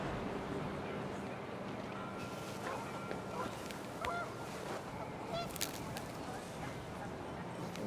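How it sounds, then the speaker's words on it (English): Panicked geese honk in What Remains of Edith Finch as the wind picks up, with repeated excited calls over a steady windy rush and a voice talking faintly underneath. "The wind picked up, and panicked geese appeared and quickly went"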